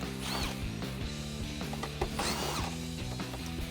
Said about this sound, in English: I'm going to use a 10mm socket and we're going to remove the 2 bolts that are holding in the front of the